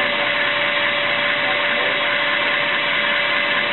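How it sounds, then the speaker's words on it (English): An electric actuator drives a 5-way ball valve, giving a steady, continuous motor whir with a constant hum that runs unbroken and fairly loud throughout. "The actuator will move the valve into the third position, and the cam will stop the motion"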